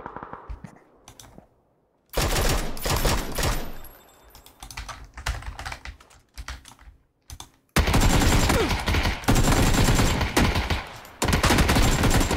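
Gunfire in the co-op shooter Remnant from the Ashes: loud, dense rapid-fire bursts break in after a quiet start, stop and start in choppy stretches, then return as sustained heavy firing near the end.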